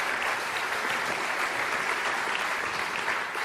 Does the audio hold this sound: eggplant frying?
no